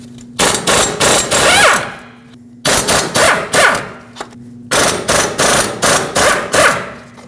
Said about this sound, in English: We'll use a 17mm socket and remove all 4 bolts that hold the hub and bearing assembly onto the knuckle.